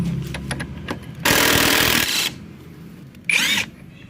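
A 19 mm socket on a power tool loosens a motorcycle's front wheel nut in two loud, close bursts of whirring, one longer and one short, with clinks and handling noises between.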